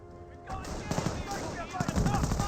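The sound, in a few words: gunfire hitting a lieutenant in Company of Heroes video game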